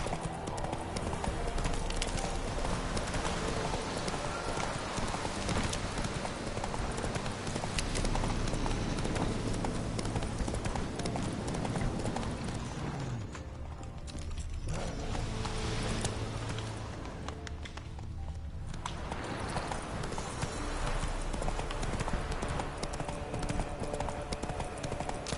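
Steady clip-clop of horse hooves from a video game, a continuous rhythmic trot heard close and fairly loud throughout, with a brief dip in the middle.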